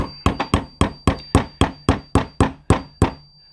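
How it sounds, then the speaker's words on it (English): A hammer taps a 5/64 punch to drive a pin out of a Ranger Point Precision R95 medium lever loop, giving about a dozen sharp metallic taps at a steady, even pace, close and crisp with no talk. "we're going to take our hammer and we're going to peck this out"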